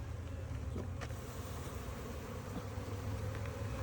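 Honey bees buzzing during a hive split, a low continuous droning hum close by, steady throughout with a few faint knocks and no talk.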